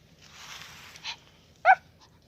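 A dog gives a soft, drawn-out whimper followed by a couple of short, close barks, then a faint final yelp, all alone in a quiet room.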